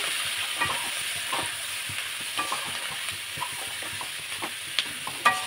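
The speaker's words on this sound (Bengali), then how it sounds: "এটা একবার একটু নাড়াচাড়া করে নেব" Salted food fries in a pan while being stirred, a continuous close sizzle broken by repeated short scraping strokes and a couple of sharper knocks near the end.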